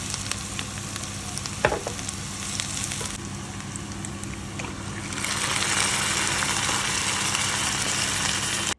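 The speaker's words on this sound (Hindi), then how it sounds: "जब मैं चिकन को फ्राई कर रही होती हूँ अनियंस के साथ" Onions and chicken frying in a pan for chicken tandoori karahi, a continuous close sizzle that swells louder partway through, with a few faint utensil knocks and no talk.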